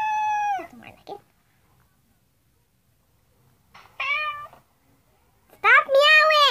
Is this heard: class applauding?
no